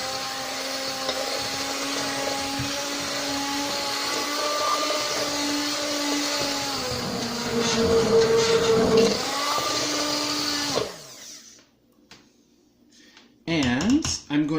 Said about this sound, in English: So I'll just run the immersion blender super quick through it.